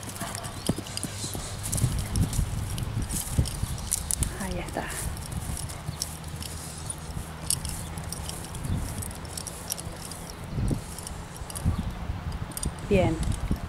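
A tame bay horse clip-clops steadily under a rider, its hooves striking in an even walking rhythm close by while someone talks over the footfalls.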